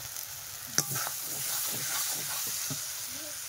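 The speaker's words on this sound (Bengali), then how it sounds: "মশলাটা কিন্তু খুব সুন্দর কষাই হচ্ছে।" Thick spice paste (masala) with onions cooked down to a gravy being sautéed and stirred in a pan for a village-style prawn dish, a steady soft sizzle broken by scraping spatula strokes, one sharp knock near the start, close up with no talk.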